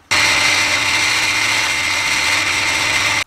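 A Dremel 335 with its router attachment drills a second hole, a steady, high, even whine held for about three seconds at close range, starting and stopping abruptly, with no talk.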